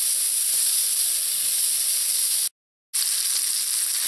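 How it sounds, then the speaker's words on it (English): Sausage browning in a pot in its own fat, with a loud, steady, close sizzle and hiss that cuts out briefly before resuming just as strongly. "We just want this sausage to start to brown."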